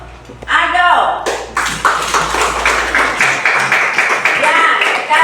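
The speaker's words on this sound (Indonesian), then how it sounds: "Kasih tepuk tangan untuk Ado" A primary school classroom of children claps together, quick rhythmic hand claps ringing out loudly for a few seconds after a brief spoken line.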